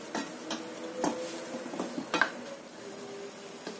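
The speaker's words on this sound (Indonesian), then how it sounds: "Tumis sampai tercium bau enak atau matang." Green chillies and shallots sauté with a little sugar in a pan over medium heat for a green chilli chicken dish, a quiet sizzle broken by several light spatula clacks against the pan.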